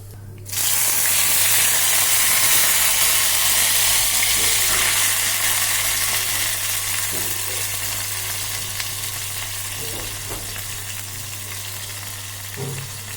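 Green chutney bubbles and sizzles in hot oil in a pan with curry leaves, a loud continuous frying hiss that starts abruptly and holds steady with faint stirring knocks.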